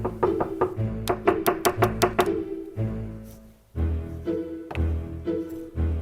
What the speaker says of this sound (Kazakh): есікті келіп түртіпті